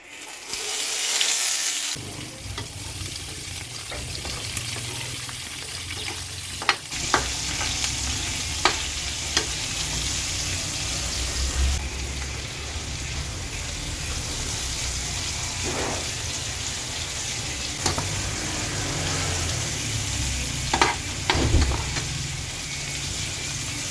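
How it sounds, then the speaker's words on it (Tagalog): White onion frying in a little cooking oil in a pan, a loud continuous sizzle with occasional stirring scrapes and pops throughout. "Lagay lang po ako ng kaunting mantika. Lalagay na po natin itong sibuyas na puti."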